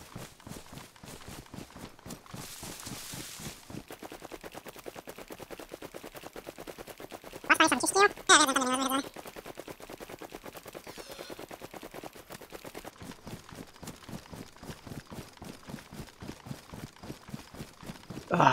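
Rapid bursts of Uzi submachine gun fire in the survival video game DayZ, a loud crackling volley of about a second and a half standing out against steady background clatter and footsteps.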